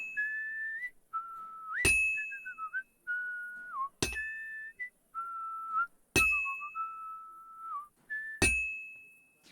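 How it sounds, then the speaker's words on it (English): Melodic whistling from a video game, wavering tones in short phrases, with four sharp metallic clangs of a hammer striking an axe during smithing in Kingdom Come: Deliverance II, spaced roughly two seconds apart. "The whistling always distracts me more than it helps me keep my rhythm."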